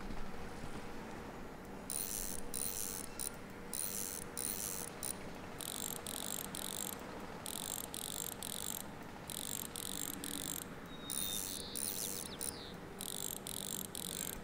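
A ratchet tool in Bus Mechanic Simulator clicks in quick repeated bursts of sharp metallic ticking, stopping and starting over a faint steady background.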